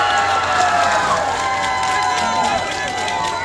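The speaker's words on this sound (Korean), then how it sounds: "여러분 뜨거운 박수 부탁드리겠습니다" A crowd at an outdoor song festival applauds and cheers, a broad continuous wash of clapping and shouts with a voice over a loudspeaker.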